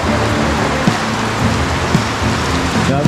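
Heavy rain pours steadily on a mountain hiking trail at Puncak Banteng Raiders, Ungaran, a loud, dense hiss filling the whole stretch with no voices over it.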